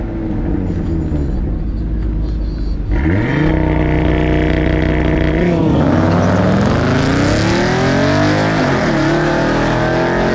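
Drag race cars launch at Texas Motorplex during a street car takeover event, one of them a small Mustang; loud, close engine roar that surges into hard acceleration with rising revs, the crowd noise underneath.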